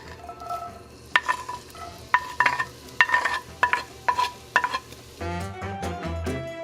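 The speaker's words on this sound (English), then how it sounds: "Now we're gonna saute our onions and our serrano" Onions and serrano peppers sauté in oil in a cast iron pan, with a soft steady sizzle beneath a run of sharp utensil scrapes and clinks, then a louder, fuller fry near the end.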